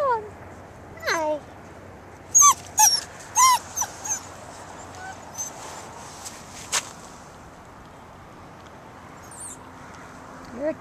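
Six-week-old puppies whimpering and yipping in short, high-pitched bursts, several clustered close together and then thinning out, with soft footsteps in a quiet room.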